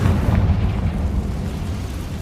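A Confringo fire spell in the Hogwarts Legacy video game bursts with a deep, booming explosion that starts loud and rumbles on, slowly fading over about two seconds.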